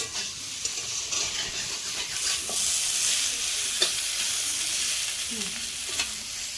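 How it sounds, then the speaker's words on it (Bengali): Bitter gourd and potato fry in a pan with a continuous bright sizzle, occasional spatula scrapes and stirring knocks close by, and no talking. "এখানে কারকল আর আলু দিয়ে ভাজা দেখা ভালো করে"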